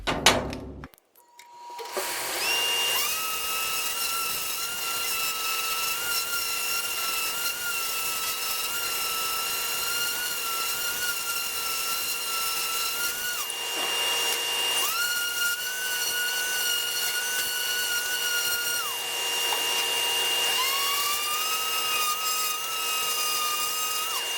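A power sander works a small wooden peg game piece through three successive sandpaper grits, a steady whirring drone with a brief pause near the start and short breaks between passes, close and loud with no talk.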